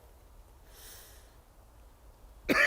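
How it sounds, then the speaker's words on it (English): A single sharp cough bursts out near the end, close and loud, after a stretch of quiet room tone. "Oh, sorry about this cough."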